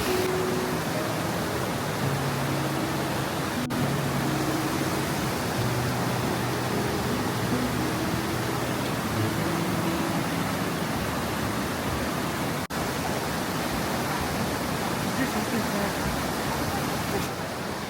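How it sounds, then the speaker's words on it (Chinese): Steady rushing water of streams and waterfalls along a boardwalk in Jiuzhaigou, Sichuan, a continuous broadband roar filling the whole scene at even loudness from start to finish. "一路上就走在这个水上的感觉啊，听着这个水声"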